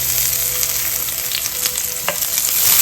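Crushed garlic sautés in coconut oil in a skillet over medium heat, giving a loud, continuous close-up sizzle with a brief stir clatter partway through.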